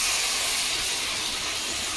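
Water hits a hot pan of spiced fried potatoes and sizzles, a loud, close, continuous steamy hiss that fades slightly over two seconds.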